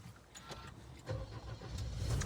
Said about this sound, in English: Let's warm up the car.